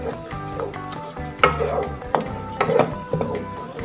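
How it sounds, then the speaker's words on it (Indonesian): Curry spices being stirred in a pan of oil for Banjarmasin-style curry, a steady scraping and stirring with soft sizzling underneath and a few sharper utensil knocks against the pan, close and moderately loud. "Kita aduk kembali."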